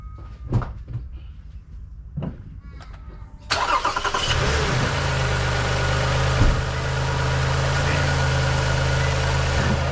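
A 2018 Toyota Kluger V6 engine cranks and starts after a few clunks, then settles into a steady, fairly quiet idle heard up close with a constant low hum.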